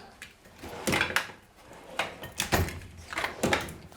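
A workshop drawer full of neatly sorted tools slides open and shut several times in quick bursts, each with a scraping rattle and a light knock, heard up close with no speech.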